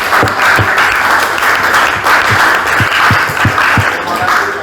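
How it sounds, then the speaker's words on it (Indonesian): A classroom of students claps after a group presentation, brisk steady applause with some louder individual claps close by, continuing throughout. "Baik, kita berikan tepuk tangan."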